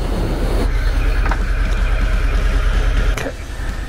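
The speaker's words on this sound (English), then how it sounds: "Start up the bike." A Harley-Davidson Heritage Classic 114 motorcycle engine runs at a close, loud, steady low rumble throughout, with the tone shifting slightly near the end.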